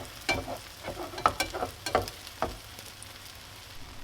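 Eggs cooking in a pan with leftover pizza: gentle sizzling under a series of scraping, tapping utensil strokes, close and quiet, with no talking.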